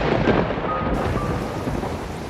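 Thunder rumbling over heavy rain on a stormy night, a dense continuous downpour hiss with low rolling booms, close and loud, heard alone.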